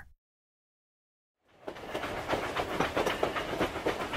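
A cartoon freight train picking up speed on the rails, heard after a short silence as a steady rumble with rhythmic clicking wheels, fairly close and continuous.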